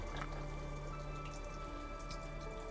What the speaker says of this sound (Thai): มีน้ำไหล เนี่ยทุกคนเห็นไหมน้ำไหลออกมา